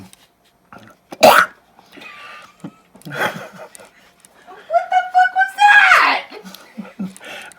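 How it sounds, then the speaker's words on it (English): A person clears their throat in a few rough, throaty bursts, close and fairly loud, mixed with short vocal noises and quiet gaps. "I'm just clearing my throat."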